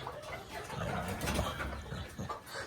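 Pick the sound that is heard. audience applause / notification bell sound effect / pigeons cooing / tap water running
pigeons cooing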